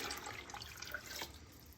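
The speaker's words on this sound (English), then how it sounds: "I'm going to go ahead and just pour in some cold water" Cold water pours steadily into a pot during water bath canning, with a splashy, bubbling rush, close by and continuous, with no voices.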